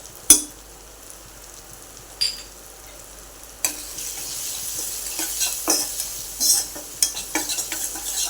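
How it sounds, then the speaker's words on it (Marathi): Red chilli powder, turmeric, coriander powder and salt sizzle in a pan for okra curry, with a steady hiss and sharp spoon scrapes and clinks against the metal, growing busier toward the end. "हे चांगले परतून घेऊया मसाले"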